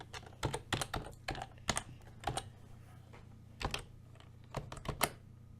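Fingers tap out short bursts of keystrokes on a computer keyboard, close and quiet, with brief pauses between runs of clicks and no talking.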